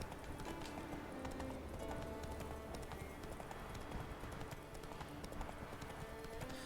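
Roach, the horse in the video game The Witcher 3, clip-clops steadily with continuous hoofbeats over a busy, dense game soundscape, near and fairly loud throughout.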